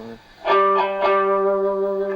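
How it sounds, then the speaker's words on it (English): A mellow, rounded electric guitar, picked with the pick held flat, plays a few notes that ring out and sustain smoothly. "you can also use them straight, in which case they make quite a mellow sound"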